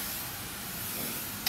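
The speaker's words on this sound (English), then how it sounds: "we're now going to spray it down with the water again" Water sprayed liberally onto a glass surface to wet it before applying optically clear film, a steady broad hiss running throughout with a brief louder burst near the end.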